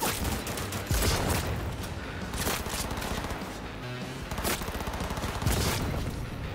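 Gunfire in Cyberpunk 2077, with loud repeated shots in irregular bursts over a dense, continuous background of game noise, some blasts landing close together and others spaced about a second apart.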